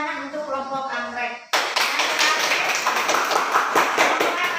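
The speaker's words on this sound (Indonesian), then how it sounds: "kita berikan tepuk tangan untuk kelompok anggrek" A class claps for a student group in an elementary classroom. The dense, steady applause starts abruptly right after a teacher's speech and continues loudly to the end.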